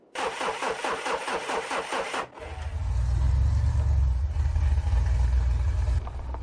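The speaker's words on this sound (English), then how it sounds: "They fire the engine and Olly pulls out of this ghost town" A car engine cranks with a rapid stuttering chug, catches, and settles into a loud, steady low rumble of idling close by.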